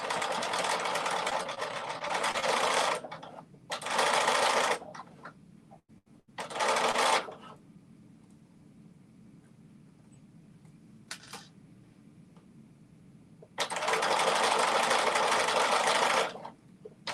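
A sewing machine stitches a dress top in several loud bursts of rapid whirring, each lasting one to three seconds, separated by quiet pauses and a few soft clicks.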